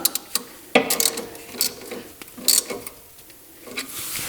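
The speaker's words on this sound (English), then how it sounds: "we got our torque wrench set. I've got the socket on there, and let's go ahead and tighten it down." A torque wrench with a socket ratchets as it tightens a coilover bolt on an R33 Nissan Skyline GT-R, giving close, sharp clicking bursts and metallic mechanism noise.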